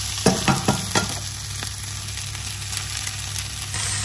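Ginger puree stirred in a hot frying pan, a steady sizzle with a few scraping strokes of the utensil early on, close and continuous, no voices.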